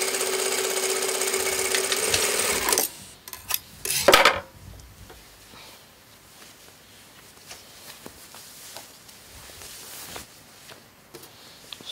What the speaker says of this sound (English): After that we are going to overlock,